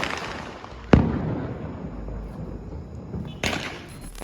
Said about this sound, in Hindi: बट लिटरली पटाखों की आवाज़ आ रही है ना अभी।